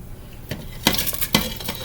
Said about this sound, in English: I'm going to put in my chicken